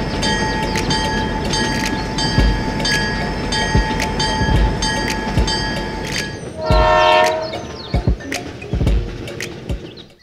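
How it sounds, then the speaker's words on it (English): A small toy train rattles along with rhythmic clicking, a steady tone underneath, then sounds a short high horn blast before clacking on. "the train continues its journey"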